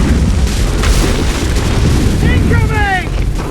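Cannon fire in Assassin's Creed III booms as a continuous, loud, rumbling roar of explosions that dominates throughout, with brief whistling streaks near the end.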